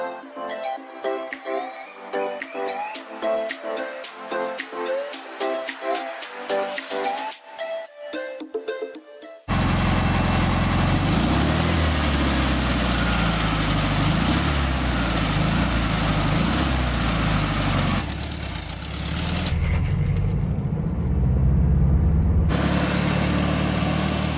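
A 1972 Volkswagen Super Beetle pulls away from a gas station, its engine rumbling loud and close as it accelerates and shifts, after a stretch of music at the start.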